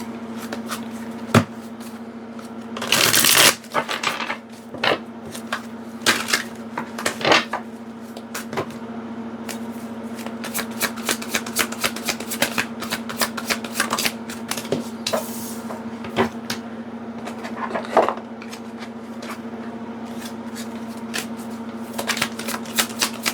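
Tarot cards shuffled by hand indoors, a close run of soft riffling slaps and ruffles with occasional sharper bursts over a steady low hum, no voices.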